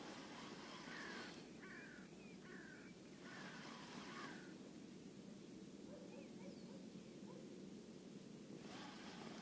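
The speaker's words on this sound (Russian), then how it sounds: "Красота, птички поют." Songbirds chirp in short repeated phrases outdoors beside a lake during perch fishing, moderately distant over a steady wash of wind and water noise.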